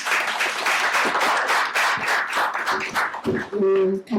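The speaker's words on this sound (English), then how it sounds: "Can you do another big round of applause?" An audience at a talk on a Kenyan cybercrimes judgment applauds with steady, dense clapping, and a voice begins speaking over it near the end.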